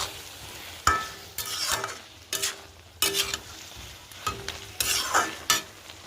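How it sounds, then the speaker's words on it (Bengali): Cooked Malabar spinach with prawns being stirred in a pan after sugar goes in, soft sizzling broken by several distinct bursts of spatula scraping and clinks at uneven intervals, close up with no talking. "একটু স্বাদ মতন চিনি দিচ্ছি। দিয়ে নেড়ে চেড়ে নামিয়ে নেব।"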